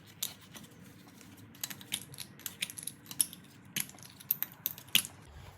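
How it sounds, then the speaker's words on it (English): Plastic lug nut caps are pried off a VW Jetta wheel with a small puller tool, giving a series of light, sharp clicks and snaps at irregular intervals, close by and with no talk. "you're going to use this little puller right here to get the caps off."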